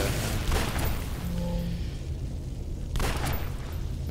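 Dual pistols firing in City of Heroes, a dense, roaring wash of booming shots and impacts with a brief lull in the middle before another loud flurry.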